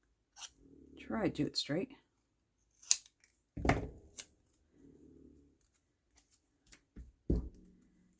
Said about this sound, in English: I'm just going to snip this across the back.